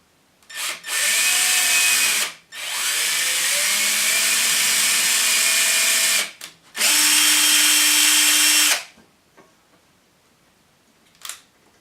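A power drill drives screws into wood close by in three long whirring bursts separated by short pauses, with a faint click at the end. No one speaks.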